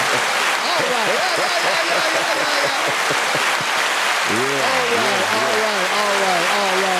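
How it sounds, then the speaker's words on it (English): Audience applause at a crime-prevention podcast recording, loud and steady throughout, with a voice speaking over it in the second half. "Hold your applause, man."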